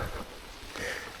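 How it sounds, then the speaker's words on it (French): Steady rain falls outdoors in the Laurentides during a mountain bike outing, a dense, even hiss of drops filling the short stretch without any voices. "puis là, il s'est remis à pleuvoir."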